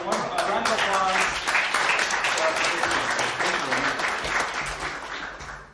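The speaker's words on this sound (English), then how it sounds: "So a round of applause." Sustained, loud applause fills a hall at an evening event, with dense continuous clapping from a large audience holding steady for several seconds, some voices mixed faintly underneath.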